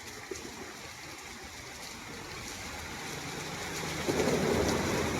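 Heavy rain pours down in a dense, continuous wash of drops that swells louder toward the end, with no speech.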